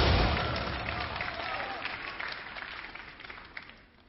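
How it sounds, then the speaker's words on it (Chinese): A studio audience at a Chinese dating show applauding to welcome a contestant, a broad wash of clapping that starts loud and gradually fades, slightly muffled and without talk over it. "好的， 掌声欢迎。"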